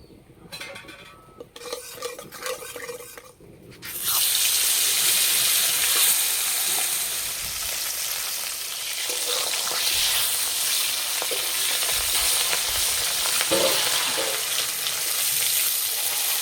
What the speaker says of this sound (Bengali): প্রথমে মাছের মাথা ভেজে নেব।